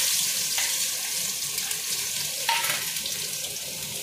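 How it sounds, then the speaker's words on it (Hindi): Crushed garlic and ginger fry in hot oil for a chutney, giving a steady, close sizzle with a couple of brief crackling flare-ups. "अब इनको तेल में डालकर भूनेंगे।"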